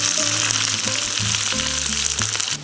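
Onion sizzling steadily in leftover butter in a pan at a cold-weather winter campsite in Kaza, with a close, continuous crackling fry and a low steady hum running underneath.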